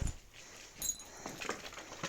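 A dog whimpers and yips in short, high-pitched bursts against a faint background hiss, with no talking; several dogs are present after playing with a ball.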